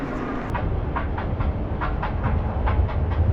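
A train at a station in Antwerp rumbles with a rhythmic clickety-clack of wheels on rail joints, loud and steady, alongside a hissing background with no talk.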